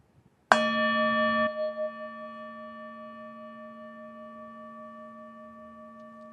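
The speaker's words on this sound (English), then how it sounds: "I'm going to start by sounding the bell." A meditation bell is struck once in a quiet room, giving a clear, bright strike followed by a long, pure ringing tone that slowly fades over several seconds.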